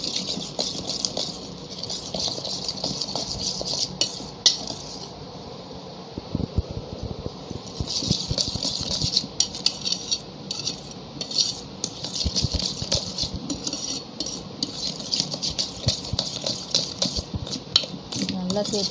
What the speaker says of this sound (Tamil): நல்லா சேர்த்து நல்லா பீட் பண்ணி அடிச்சுக்கணும்